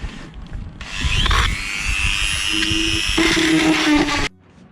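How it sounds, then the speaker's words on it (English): Power drill countersinking a through-hole on a sailing boat, a close, loud whirring grind lasting about three and a half seconds with slight pitch shifts before stopping abruptly. "Really countersinking the Countersink more on this side."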